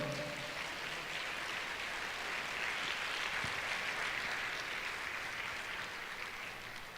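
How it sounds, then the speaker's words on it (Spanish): A church congregation applauds together, producing a soft, even wash of clapping that holds steady for several seconds before slowly fading. "Un aplauso al Señor."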